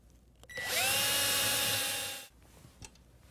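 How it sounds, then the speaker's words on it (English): A power drill drives a half pin into an Ilizarov frame through a half pin fixation bolt guide, one close whirring burst that spins up quickly, holds steady for under two seconds, then stops, with faint handling noises around it. "then we are inserting the half pin using this half pin fixation bolt as a guide"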